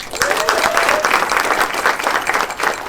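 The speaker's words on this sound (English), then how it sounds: "So please, give them another round of applause." A crowd at a Small Business Week closing ceremony applauds steadily, dense, close clapping that fills the room without letting up.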